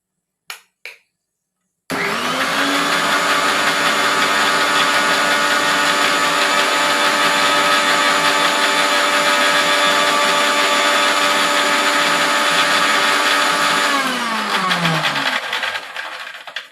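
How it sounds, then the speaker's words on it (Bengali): A mixer grinder grinds poppy seeds, its motor whining steadily and loud for about twelve seconds after two brief clicks, then winding down as it is switched off. "পোস্তটা আমি মিক্সিতেই বাটি"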